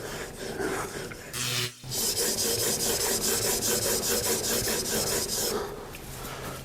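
A woodworking chisel is honed on a sharpening stone with steady, close back-and-forth rasping strokes, broken by a brief pause partway through, with no voices.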